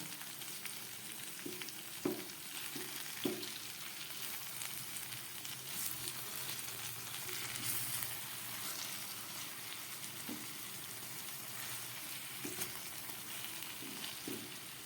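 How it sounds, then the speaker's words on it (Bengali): Brinjal slices frying in a pan, a steady close sizzle of hot oil with occasional knocks and scrapes as the slices are turned, moderately quiet and without speech. "এইভাবে উল্টে পাল্টে বেগুনগুলোকে আমি ভেজে নিচ্ছি"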